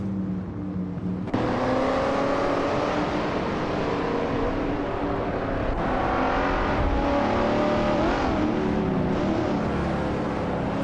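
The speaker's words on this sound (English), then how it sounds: "Hope you're ready for some exciting AI car racing action." Race cars in an AI car racing video game accelerate continuously, engines droning and revving with shifting pitch, loud and steady throughout, with several cars layered together.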